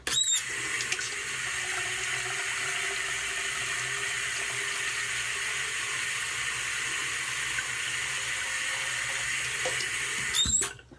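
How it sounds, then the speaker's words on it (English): Water runs steadily from a tap into a water bottle in a bathroom, a constant close hiss and splash lasting about ten seconds, starting and stopping abruptly. "So I'm gonna fill this up with some water."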